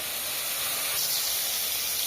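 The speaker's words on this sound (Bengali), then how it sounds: "মাছটা ভেজে নিচ্ছে বন্ধুরা, সামান্য একটু জলের গুঁড়ি দিচ্ছি" Fish frying in a pan in a Bangladeshi village kitchen hisses and sizzles loudly as a little water is sprinkled in, a steady, close, broadband spray of sound lasting the whole moment.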